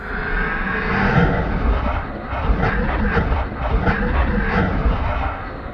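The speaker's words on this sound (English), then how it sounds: "I wanted to create a loop of growls that would constantly keep the player in suspense, as if the enemy is near" Looping video game monster growls rumble and snarl continuously, low and rough, dense and close, with gritty rasping pulses rising and falling.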